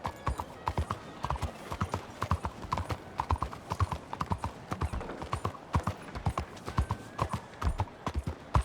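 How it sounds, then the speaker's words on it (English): Horse hooves clip-clop steadily and close in a Red Dead Redemption 2 street, with a brief whinny among the rhythmic footfalls. "Little fiery horse."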